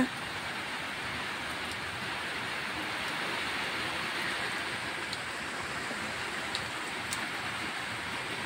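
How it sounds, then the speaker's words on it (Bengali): Morning rain falls steadily outdoors near a tin-roofed house, a continuous even hiss with occasional faint drips, no talk. "তোমরা দেখো সকালবেলায় কেমন বৃষ্টি হচ্ছে।"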